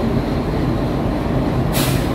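An Indian train at Siliguri station begins to move, giving a loud, steady low rumble of engine and carriages, with a sudden hiss of air release near the end.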